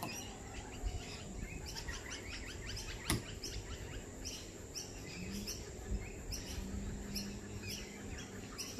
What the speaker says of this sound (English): Did you hear that? They're calling each other. Talking kookaburra.